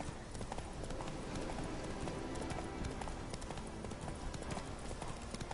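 Roach's hooves clatter in a quick, steady clip-clop in The Witcher 3: Hearts of Stone, close and continuous over dense game ambience.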